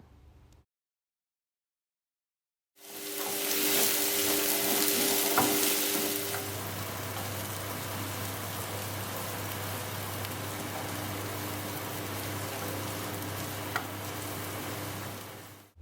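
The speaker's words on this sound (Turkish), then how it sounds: "1 tane yemeklik doğradığım soğanı ilave ediyorum ve yaklaşık 4-5 dakika kavuruyorum" Steady, loud sizzling of chopped onion frying in olive oil in a pan, a continuous crackling hiss that starts abruptly after a moment of silence and carries on.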